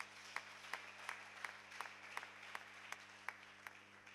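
A church congregation claps in unison for God during a Kinyarwanda worship service, a slow, steady beat of about three claps per second, evenly spaced over a faint room hum and lasting several seconds.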